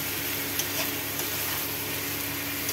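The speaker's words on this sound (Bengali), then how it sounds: "ভালো করে নাড়াচাড়া করা হচ্ছে। এটা দিয়ে কষা হবে।" Spices stirred and fried in a pan while cooking Bengali shukto, a soft, steady sizzle with faint scraping stirs, low in level and unbroken.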